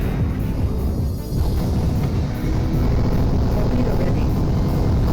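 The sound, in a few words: bomber craft passing in video game Archimedean Dynasty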